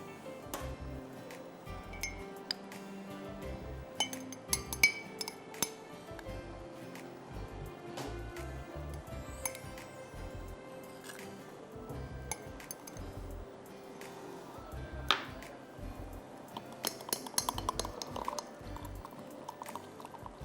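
Light metallic clinks of a spoon stirring cornflour into milk in a glass, soft irregular taps repeating close by over a quiet kitchen background.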